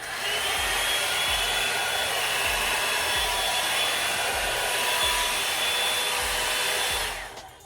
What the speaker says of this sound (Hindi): आज आप लोगों के साथ मैं ये Revlon one step hair dryer से ही बाल ड्राई करूँगी